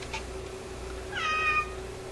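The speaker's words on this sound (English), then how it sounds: "That's one of my cats asking to go outside." A house cat asking to go outside gives a single drawn-out meow, rising then falling, over a constant electrical hum from a console stereo in a quiet room.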